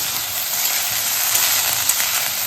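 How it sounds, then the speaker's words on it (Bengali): Minced chicken frying lightly in a pan for chicken soup, giving a steady close-up sizzle with a few small clicks and scrapes mixed in. "চিকেনটা একটু হালকা করে একটু ভেজে ভেজে নেবো"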